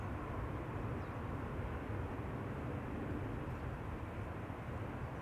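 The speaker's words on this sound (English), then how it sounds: "the A350 has landed" An Airbus A350 lands at Schiphol Airport, giving a steady, loud broadband roar of jet engines with heavy low rumble that holds evenly throughout, with no voices.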